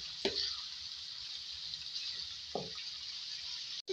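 Chicken liver fries in a hot pan with a steady, close sizzling hiss, broken by a couple of brief stirring scrapes and knocks, with no talk.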